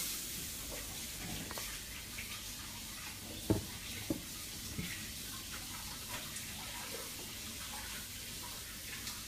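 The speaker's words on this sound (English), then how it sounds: "Just going to quickly wash my hands and then I'll add the coconut." Running tap water pours steadily while hands are washed beneath it, a soft, continuous hiss with a few small knocks and splashes, fairly quiet and heard without talk.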